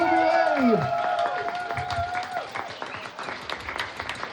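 Street festival crowd on rue Saint-Malo in Brest applauding and cheering, dense sustained clapping with shouts that gradually thins out, following a voice over a loudspeaker at the start.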